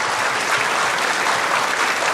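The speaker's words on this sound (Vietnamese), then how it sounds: "xin mời quý vị hãy dành một tràng pháo tay thật nồng nhiệt cho MC Anh Thư" A crowd gives loud, continuous applause for MC Anh Thư, a thick, even roar of many hands clapping at once that holds steady throughout, with no voices on top.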